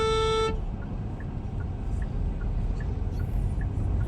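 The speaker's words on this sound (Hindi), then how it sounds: "हॉर्न दे के चलाना।" A single vehicle horn gives one clear, loud toot at the start, then stops, leaving steady road traffic rumbling underneath on a drive to a baby's vaccination appointment.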